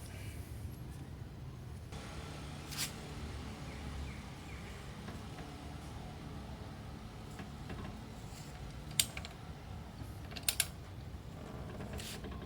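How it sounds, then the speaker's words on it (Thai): Bolt being tightened with a wrench handle after an IMAN IW-400 electric impact wrench: a low steady mechanical creaking and grinding runs throughout, with a few sharp ratchet-like clicks near the end, quiet and close, no speech. "ดี๋ยวผมจะอัดด้วยด้ามขันไปอีก"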